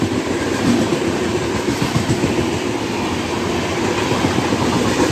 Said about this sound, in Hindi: गोरखपुर यशवंतपुर एक्सप्रेस